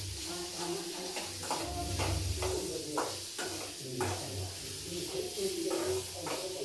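Garlic and ginger fry in oil for a home-style mutton sukka, a continuous sizzling hiss with soft stirring scrapes and bursts of crackle, while a voice talks intermittently over it.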